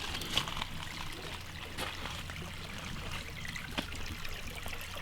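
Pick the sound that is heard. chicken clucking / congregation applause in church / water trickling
water trickling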